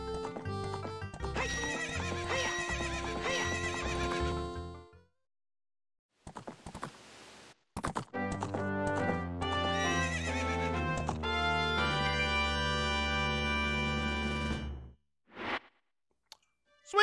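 Epona the horse in Zelda Ocarina of Time gives a loud, bright whinny and clip-clops, broken by silent gaps and game chimes, with a short final whinny near the end.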